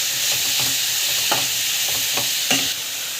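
Onion, green chili and carrot sautéing in a pan, a loud continuous sizzle with repeated scraping stirs about every half second.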